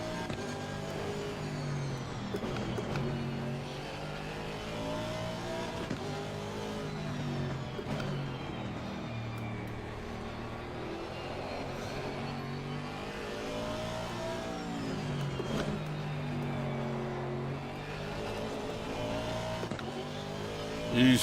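Aston Martin Vantage V8 GT3 racing at Zandvoort in Assetto Corsa Competizione, its engine note loud and continuous, rising and falling through revs and gear changes with no pause across the stretch.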